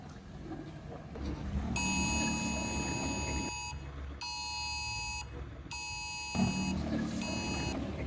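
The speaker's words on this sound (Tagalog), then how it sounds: "Have you heard the alarm earlier?" Intermittent electronic alarm beeping in bursts of a second or two, separated by short gaps, sounding over a steady low rumble of background noise during a disaster-preparedness drill.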